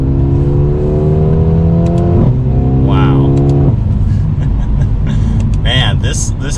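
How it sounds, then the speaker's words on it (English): Mercedes-Benz AMG CLA 35 four-cylinder engine on a test drive, exhaust revving up through steady rising harmonics, dropping sharply on a downshift and climbing again, loud and close inside the cabin while a man briefly exclaims. "That 4-cylinder sounds so good"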